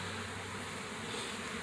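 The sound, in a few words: bees buzzing on a hive frame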